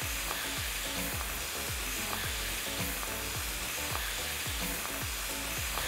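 Chicken cutlets sizzle loudly in hot olive oil with garlic and thyme in a cast iron pan, a steady dense frying hiss with repeated light scraping and stirring knocks from moving the pan, and no talking.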